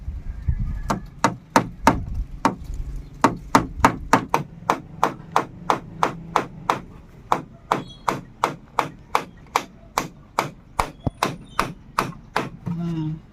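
Nails are driven into wood with a hammer in a steady run of about two dozen sharp, close strikes, evenly paced with brief pauses between blows.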